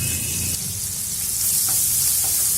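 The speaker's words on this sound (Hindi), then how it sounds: "लहसुन जब थोड़ा सा फ्राई हो जाए तो अब डालेंगे 1 मीडियम साइज की प्याज जिसे बारीक काट लिया है, ये डाल देंगे।" Finely chopped medium onion and garlic fry in a hot pan with a loud, steady, close sizzle that stays constant throughout.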